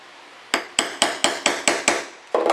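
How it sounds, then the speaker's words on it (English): A hammer sets metal eyelets on a setting mat: seven sharp, evenly spaced strikes ring out close and loud, then a quick double tap follows after a short pause, with no talking. "So I went back to manually setting my eyelets with the hammer and the setting mat."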